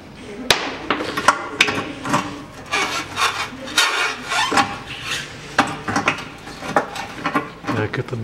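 Hand filing through a rear eccentric adjustment bolt on a Toyota Mark II, close rasping strokes in an uneven rhythm with occasional metallic knocks and a voice speaking intermittently.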